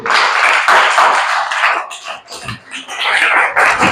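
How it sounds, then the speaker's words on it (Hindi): An audience at a primary-school general knowledge quiz competition applauds the winning team with a steady, dense burst of clapping that swells and dips slightly, then carries on loudly to the end. "इनके लिए ताली बजा दीजिए।"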